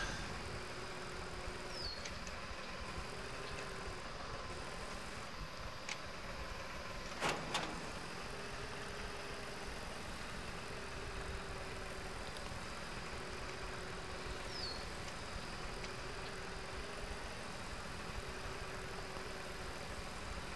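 A steady tractor engine drone from the video game Farm Expert 2017 runs throughout with a low idle hum, plus a brief clunk midway; no voices, a constant mechanical rumble.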